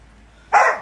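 A dog gives a single short, loud bark that comes suddenly out of near silence and fades quickly.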